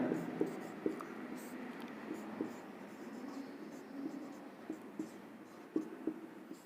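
A pen scratches quietly across paper while notes are written, with small taps and strokes over faint background murmuring.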